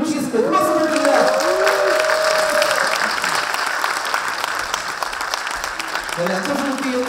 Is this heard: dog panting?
no